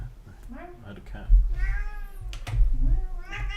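A cat meows several times close by, drawn-out rising and falling cries mixed with a person speaking softly to it indoors.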